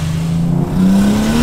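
A car with a 4-liter engine accelerates hard, its low engine note rising in pitch, dipping briefly as it shifts, then climbing again, loud and close with no voices.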